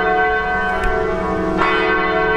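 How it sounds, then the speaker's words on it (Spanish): A church bell in a bell tower in Vilnius, Lithuania, rings loud and close, its sustained metallic tone layered with rich ringing overtones, struck again partway through as the hum carries on. "la Torre de la Campana y esto me está sonando."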